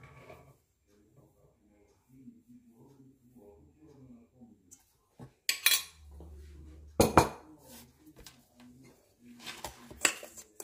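Cornstarch and hazelnuts being mixed in a bowl with a utensil, giving scattered clinks and scraping knocks that grow louder in the second half, with quiet talking early on.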